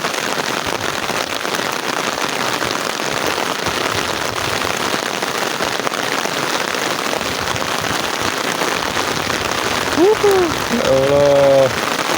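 Heavy rain pours steadily over the rural West Java countryside on a windy, misty morning, a dense, unbroken hiss close all around, with a voice speaking briefly near the end.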